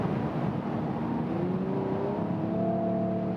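A 2019 Mercedes E53 AMG Estate accelerates at high speed, its engine a muted, rising hum under steady road and wind noise heard from inside the cabin, with no talk.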